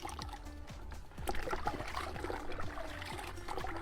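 Pieces of cassava are washed by hand in water, with faint sloshing, trickling and small splashes repeating irregularly at close range, quiet and without talk.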